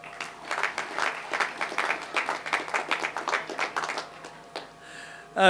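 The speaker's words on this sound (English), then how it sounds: "So a big round of applause for them." A crowd applauds at an outdoor India Fest inauguration ceremony on a riverside ground, a moderate patter of many hands clapping for about four seconds before fading, followed by a brief sharp burst at the end.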